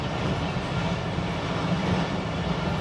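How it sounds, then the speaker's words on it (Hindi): Inside the Karakoram Express running toward Khanewal Junction, a steady loud rumble of the moving train carries faint rhythmic wheel clatter. The sound stays continuous and even throughout, with no clear talk. "अब खानेवाल जंक्शन पहुंच रही है ट्रेन"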